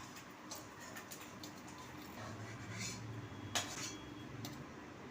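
A spoon scooping small fried fish out of an iron wok into a bowl, a few faint metallic clinks and scrapes spread over several seconds, quiet and close with no talking.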